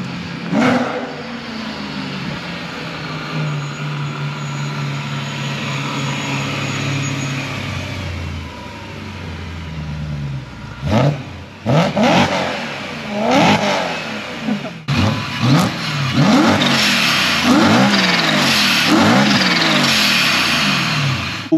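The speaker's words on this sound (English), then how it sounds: "we're gonna experience some pulls, exhaust clips" A supercharged 2013 BMW M3 Competition Pack E92 coupe, a 600 hp track build, idles steadily and close by. It then breaks into a run of loud, sharp rev blips that rise and fall in quick succession.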